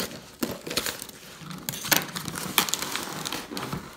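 A large wad of duct tape being peeled and crumpled close by, with irregular crinkling bursts and sharp tearing crackles that come in uneven clusters, with no voices.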